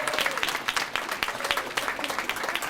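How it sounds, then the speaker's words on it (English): Audience applauding graduates of a Superior Court behavioral health treatment program at a ceremony, a steady dense clatter of many hands clapping throughout, fairly close and even in loudness. "The special group of men and women were applauded for their life-changing decisions."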